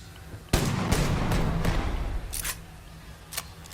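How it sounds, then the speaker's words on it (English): Enemy gunfire in the sci-fi game Starfield, a burst of loud sharp shots cracking close together then thinning into a few scattered, fainter pops over a busy game soundscape. "Dude, they're shooting me?"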